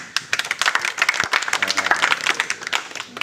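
An audience at an Onam celebration at a rehabilitation centre bursts into brief, dense applause, many hands clapping close and loud for a few seconds.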